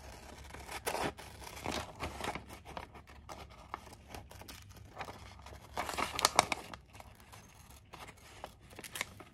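Scissors cut out a paper image for a collage, making a string of irregular snips and crinkles. The paper rustles as it is handled, close and fairly quiet, with no talking.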